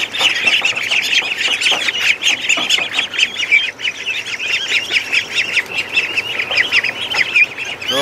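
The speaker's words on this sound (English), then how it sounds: "So, oh, there's my goose. There's that goose. That Chinese goose." Chinese goose squawking among a flock of Muscovy ducks, a dense run of loud, harsh repeated honks and squawks overlapping close by, with no talk.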